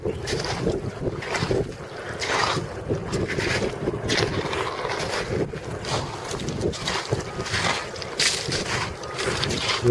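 Strong snowstorm wind roars across Tin Can Beach in Saint John, New Brunswick, buffeting the microphone in loud, continuous gusts with a rough, blustery texture.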